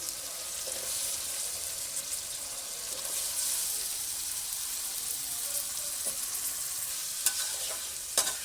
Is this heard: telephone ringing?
no